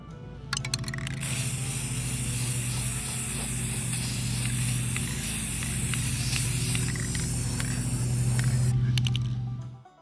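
A spray paint can hisses in one long continuous burst, close and steady, with faint clinks underneath.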